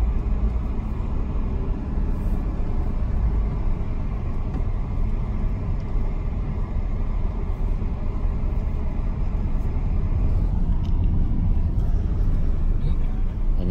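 Busy road traffic near Sentul with many buses passing, a continuous heavy engine rumble and roadway wash that stays loud and steady throughout, heard from close by.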